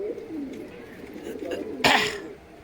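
Soft, low cooing from fancy pigeons in a loft carries on throughout, broken near the end by a brief sharp burst of noise like a sneeze or flutter.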